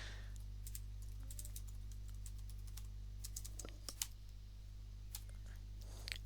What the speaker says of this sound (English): Sorry for the horrible typing